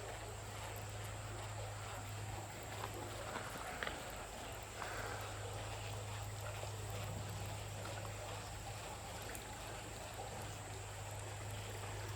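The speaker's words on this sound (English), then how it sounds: "This little waterfall is one of her all-time favorite spots." A small creek waterfall gives a steady, even rush of falling water that holds unchanged throughout, moderately close and with no talk.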